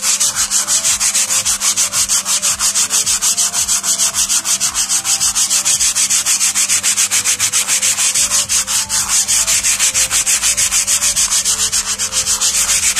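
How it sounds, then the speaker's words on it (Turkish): Hand sanding of old wooden boards while building a scroll saw cutting bench, a loud rhythmic rasping of sandpaper in fast back-and-forth strokes that continue steadily from start to finish, with no talk. "Zımparalıyorum. Şöyle bir zımparayla."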